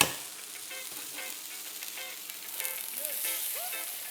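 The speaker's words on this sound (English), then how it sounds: "Okay, so now the pan is oiled and hot. Our steaks are dry and peppered, and we can start searing our steaks." Wagyu steaks sear in a hot, oiled pan with a constant crackling sizzle, moderately loud and close, with small pops and spits rising toward the end.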